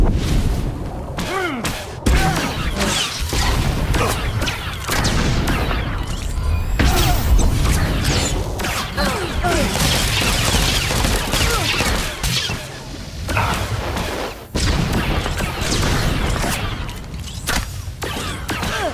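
Rapid blaster fire from a Star Wars: The Old Republic bounty hunter battle crackles in dense volleys with booms and thuds, loud and nearly continuous, broken by a few brief gaps.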